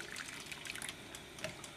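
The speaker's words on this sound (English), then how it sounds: "I'm pouring the hot light cream into the skillet." Hot light cream poured into a skillet over a high flame while making a thick cream sauce; a soft, steady liquid pour trickles continuously at low volume, close by, with no voices.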